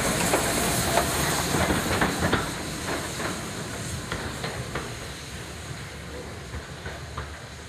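Fenchurch, an A1 class steam locomotive, draws into the Bluebell Railway's Sheffield Park terminus with chuffing hiss and clanking wheels, loud at first and easing off as it slows; faint voices in the background.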